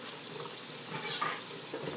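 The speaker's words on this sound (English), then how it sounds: "I love the sound of running water" Kitchen tap running water into a sink while cooking, a steady soft hiss and splash that stays level throughout, close and fairly quiet with no talking.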